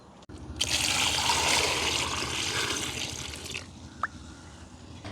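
Water runs and trickles steadily from a tap while eggplants are rinsed and washed at a village kitchen sink, a continuous splashing flow that stops near the end and is followed by a single drip.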